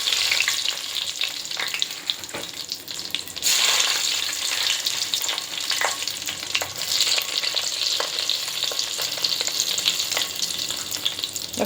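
Mustard seeds and black pepper crackle and sizzle in hot oil, with a dense, loud, continuous frying hiss and scattered sharp pops close by while being stirred.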